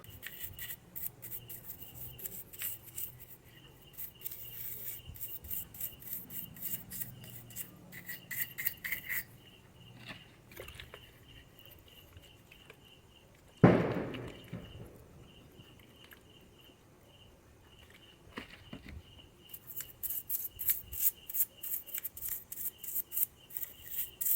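A motorcycle throttle body is scrubbed clean of outside dirt with petrol: a busy run of rapid scratchy brushing strokes, a pause with a few faint clicks and one sharp knock near the middle, then more fast close-up scrubbing toward the end, with no talk.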